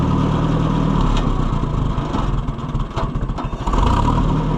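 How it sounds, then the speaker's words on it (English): An Oliver 550 tractor engine idles close by after carburetor work, a loud, steady low chugging with a slightly uneven, loping rhythm that dips midway and then picks back up, with no talking. "Let's let her idle"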